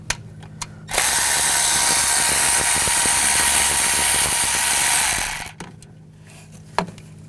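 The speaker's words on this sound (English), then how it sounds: "using a 10mm socket where the dipstick goes in, the dipstick tube, we're going to take this bolt out" A ratchet with a 10mm socket backing out the dipstick tube bolt on a 2014-2018 GMC Sierra 1500 5.3L V8, a loud, close, continuous buzzing whir lasting about four seconds, framed by a few isolated clicks and taps.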